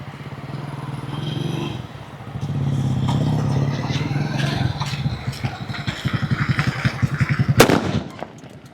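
A King of Harishakti firecracker from a Sivakasi cracker shop going off outdoors in a rapid string of sharp, loud bangs that speed up toward the end, capped by one big crack near the close.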